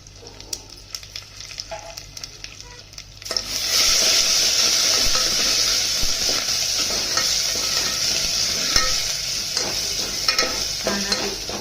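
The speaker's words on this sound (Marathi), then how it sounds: "झणझणीताची फोडणी तयार करायची मस्त" Cumin seeds, curry leaves and asafoetida hitting hot oil for a dal tempering. After quiet, faint clicking, a loud, sudden sizzle bursts in and holds as a steady, close crackling hiss.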